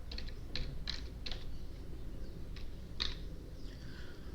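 Keys tapped on a computer keyboard while entering a command in R, a handful of quiet, separate clicks spread unevenly over a low steady hum.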